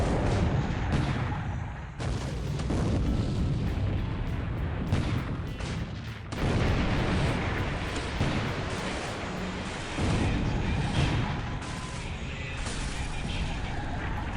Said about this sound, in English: Oh, we got a torpedo hit, looks like on the Mont column.